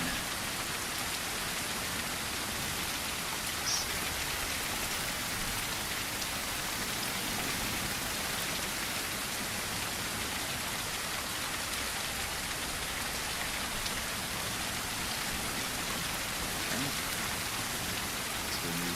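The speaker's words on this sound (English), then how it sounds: "because of all the rain." Steady rain falls in the Blind Descent video game, a dense, even hiss of drops on surfaces that holds constant for the whole stretch with no voices over it.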